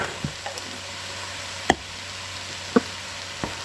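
Leftover Thanksgiving food with garlic powder is stirred in a pan under a soft, steady sizzle, broken by a few sharp knocks of the spoon against the pan, close and fairly quiet, with no talking.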